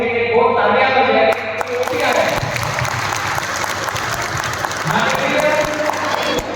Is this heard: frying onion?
no